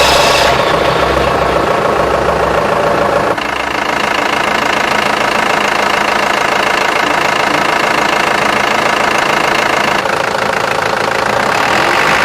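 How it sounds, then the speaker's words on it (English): Toyota forklift engine idling steadily at close range, a continuous mid-pitched running note with a faint knocking rhythm, loud and unbroken with no talk, with a brief shift in tone partway through. "Check the engine idle speed next."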